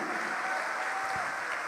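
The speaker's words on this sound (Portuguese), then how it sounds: "Vamos aplaudir mais ao nome de Jesus." Sustained applause from a church congregation, a dense and even clapping texture that holds steady for the whole stretch, with a brief low thump near the end.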